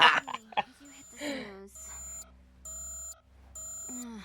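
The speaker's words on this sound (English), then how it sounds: "why'd you set the alarm?" An electronic alarm beeps in steady repeated bursts after a stretch of talking, with voices briefly overlapping the start.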